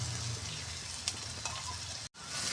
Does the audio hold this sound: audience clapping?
no